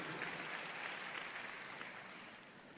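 A church congregation applauds in a steady, fairly faint wash of clapping that eases slightly toward the end.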